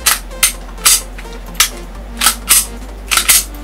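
A pistol slide, freshly coated with graphene lubricant oil, is worked back and forth on its frame, giving about eight crisp metallic clicks at an irregular, quick pace, close and distinct.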